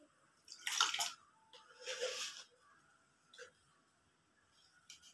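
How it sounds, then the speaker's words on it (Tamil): Water is poured into a cooking pot while a home fish curry is being made, heard as a few short splashing bursts between quieter stretches. "தேவையான அளவு தண்ணியை ஊற்றி வச்சிட வேண்டியதான்"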